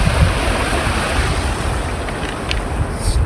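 Irrigation water rushes in full stream along a farm channel, a loud, steady, close-up wash of noise with no voices.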